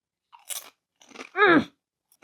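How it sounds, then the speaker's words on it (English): Thick-cut Lay's Kettle Cooked salt and vinegar potato chips crunch up close in a few separate bursts of bites and chewing, with quiet gaps between and no talking. "They're so crunchy. They're thick cut."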